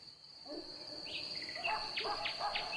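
A park soundscape where a steady, high cricket trill runs throughout while several birds chirp and sing in short bursts in the second half, moderately close, with no voices.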